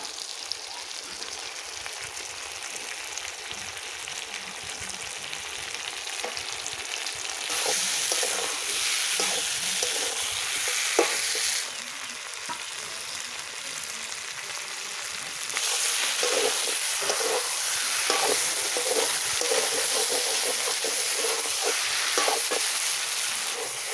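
Chicken and potatoes sizzle and fry in a pan for a Bengali-style curry, with a steady hiss that jumps louder as the food is stirred and scraped and then settles back, with no talk.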